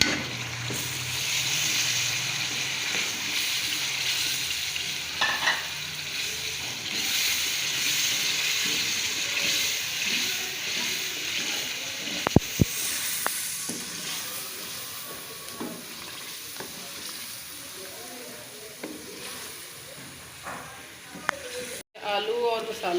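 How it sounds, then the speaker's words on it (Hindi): Ground tomato paste sizzles and fries in a pan with potatoes and spices for aloo palak bhujia, a steady hiss and crackle with occasional stirring clinks throughout. "अब इसमें ये डालेंगे पिसे हुए टमाटर।"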